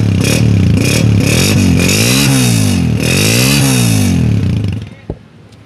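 A small restored Honda 125 motorcycle engine runs loud and close, its revs rising and falling a few times before it cuts off, leaving a brief clunk.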